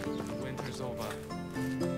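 Horse in the Medieval Dynasty video game, with hoof clip-clops and a whinny running steadily under close conversation between players.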